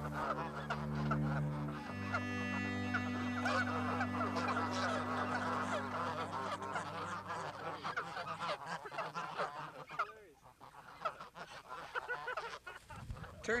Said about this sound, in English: Geordie and Kirk spend the day relating to the geese.